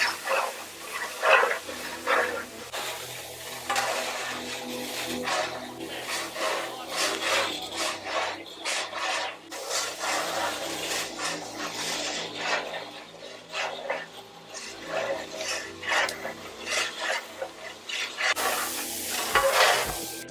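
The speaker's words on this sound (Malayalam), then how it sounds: "ഇഞ്ചിയും വെളുത്തുള്ളിയും കൂടി നമ്മുടെ എണ്ണയിലേക്കിട്ട് അതിൻ്റെ പച്ചമണം മാറുന്നത് വരെ നമുക്ക് ഒന്ന് മൂപ്പിച്ചെടുക്കാം" Ginger and garlic frying in oil for a large batch of coconut rice and beef roast, stirred with a utensil: repeated scraping and rubbing strokes over a soft sizzle, fairly close and continuous.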